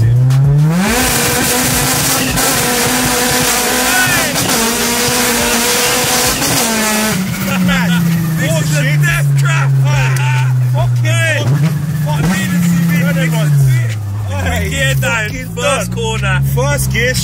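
A 640bhp Honda Civic EK9 revs hard with wheelspin, its engine note climbing and dropping through repeated high-pitched surges amid tire squeal, loud and close, with people talking over it.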